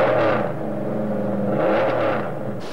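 Porsche Carrera Cup sports cars at a British Grand Prix race meeting, engines revving loudly and continuously, with a rising and falling whine as they accelerate close by for nearly three seconds.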